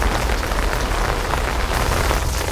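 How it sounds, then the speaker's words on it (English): Steady early-evening rain falls outdoors in a dense, even hiss of drops hitting surfaces. It is loud and close throughout, with no voices or other sounds. "the rain we're having now"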